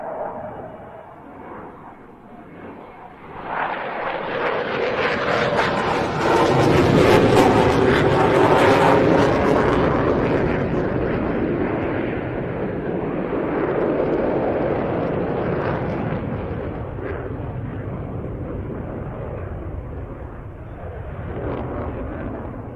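A Turkish Air Force F-16 flying an airshow display at RIAT 2024 performing rudder kicks: a roaring jet engine swells from a quieter rumble into a loud, broad blast, then a sustained, slowly fading roar overhead.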